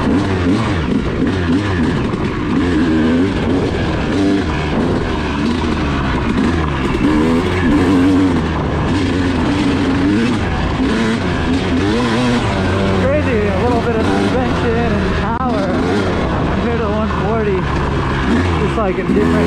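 A Yamaha YZ250 two-stroke dirt bike engine drones loud and close while trail riding, its pitch rising and falling continuously as the throttle opens and eases throughout.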